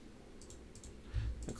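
A computer mouse clicks a few times while working in Adobe Illustrator, giving sharp, faint taps over a quiet room hum, with no speech.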